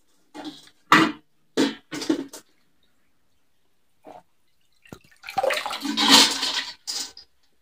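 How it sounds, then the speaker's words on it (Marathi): Washed moong dal tipped into a strainer, with a few short knocks and splashes first, then a loud rush of water draining through the mesh for about two seconds before a final trickle. "आता या गाळणीमध्ये डाळ काढून घ्यायची"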